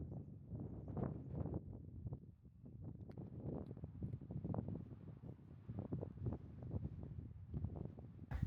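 Gusty wind buffets the microphone in open country in Western Australia, a fairly faint, uneven rushing that swells and dips in repeated gusts with no talking.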